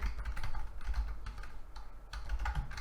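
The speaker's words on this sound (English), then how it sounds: "And I'm going to type in Legendary" Steady, fairly loud typing on a computer keyboard, a dense run of quick key clicks with no one speaking.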